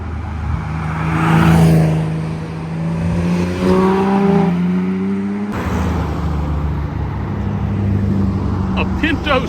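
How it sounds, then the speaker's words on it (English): A Pinto station wagon drives past on a road, its engine rising as it approaches and fading as it passes, with a person talking nearby. "A Pinto station wagon."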